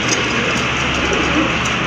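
Pigeons coo faintly at a bird sale, soft low calls nearly buried in steady broadband noise and a constant hum.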